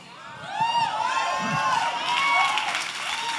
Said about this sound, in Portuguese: Tem uns homens aqui que não bateram palmas, só as mulheres.